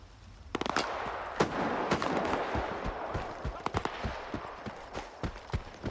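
Gunfire from the video game S.T.A.L.K.E.R. 2 crackles in a burst of sharp, irregular shots over a rushing background, with scattered reports continuing to the end at close range.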